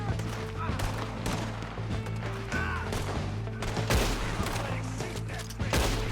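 Gunshots in the Red Dead Redemption 2 video game crack out in quick irregular bursts of sharp reports over a steady game background, with a voice talking at points in between.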